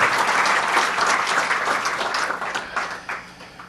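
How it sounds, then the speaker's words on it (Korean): Audience applause breaks out during a political speech by Roh Moo-hyun, a dense wash of clapping that is loud at first and then slowly thins and fades. "이럴 때 박수 한번 쳐주셔도 괜찮습니다."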